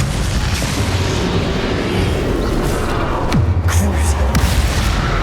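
A spell effect in Hogwarts Legacy (Xbox One) erupts within a dense stream of combat audio, with loud, continuous booming bursts and blasts layered throughout.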